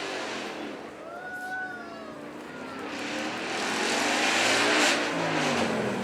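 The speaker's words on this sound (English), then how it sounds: "The noise is just formidable out the back of that Mustang." A 5-litre Ford Mustang launches at a race start during a supercar weekend, its engine note rising and swelling louder as it accelerates, with a crowd and other ambient noise around it.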